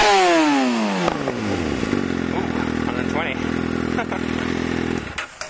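A Kawasaki Ninja ZX6R 636 fitted with an M4GP slip-on exhaust revs loud and close, its pitch sweeping down before holding a steady, raspy high-rev drone that cuts off near the end, with a brief exclamation from a person.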